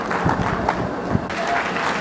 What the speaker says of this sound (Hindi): उनके सम्मान में एक बार ताली बजाएं